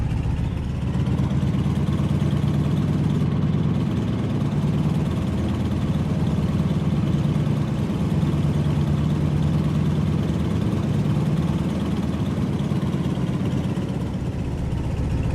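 A PT-17 Stearman biplane's radial engine idles steadily in Microsoft Flight Simulator, a constant low, even rumble heard alone with no talking.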